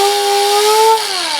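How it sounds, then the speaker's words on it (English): A die grinder runs at a steady high whine, then its pitch slides lower as the speed is turned down, loud and close with no talking. "So this is the solution I ended up going with on this new die grinder to control the speed"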